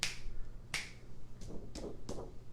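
Body percussion in a music lesson: a sharp finger snap, a pause, then a quick series of crisp claps or snaps in a quiet room, close and distinct against faint background hum.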